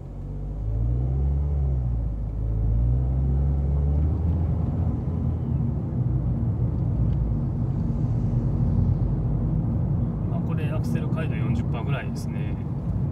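A Mazda2 driving on a road, a steady low engine and tyre rumble throughout with a voice talking over it, the engine note easing slightly near the end.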